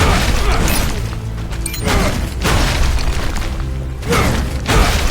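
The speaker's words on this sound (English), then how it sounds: "I'm going to destroy the statue" A statue smashed apart in the video game Castlevania Lords of Shadow 2, heavy booming crashes and crumbling rumbles rolling in loud repeated waves, close and dense throughout.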